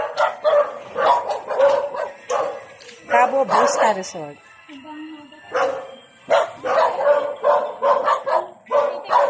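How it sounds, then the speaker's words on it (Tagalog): Dogs bark repeatedly in rapid bursts, loud and close, with a brief whimper and a person speaking partway through. "Ang dami aso."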